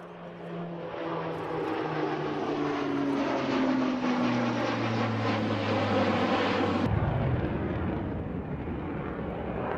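A JF-17 fighter jet, co-developed by China and Pakistan, flying at the Paris Air Show, a loud continuous engine roar with shifting whine tones that swell and sweep down as it passes, then cut off abruptly near the end.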